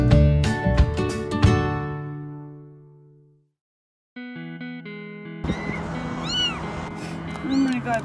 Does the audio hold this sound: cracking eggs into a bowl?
no